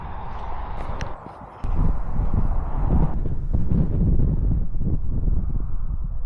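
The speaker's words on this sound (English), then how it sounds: "So it's quite windy here." Strong gusts of wind buffet the microphone at Avebury with heavy low rumbling, briefly easing once before surging back and continuing loudly.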